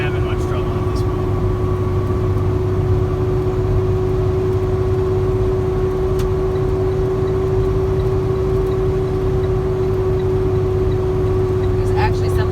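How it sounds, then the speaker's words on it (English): Super C diesel RV motorhome engine pulling in fifth gear while climbing Raton Pass southbound on I-25, heard from inside the cab as a steady, loud, unbroken low drone with a constant hum tone throughout. "You can hear that Super C diesel."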